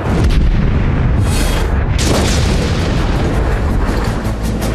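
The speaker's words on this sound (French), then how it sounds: "les canons transmanche entrent en action par des tirs soutenus et incessants" Sustained heavy artillery fire from giant cross-Channel coastal guns, a dense continuous roar of deep booms and rumbling blasts with no pauses, loud and close throughout.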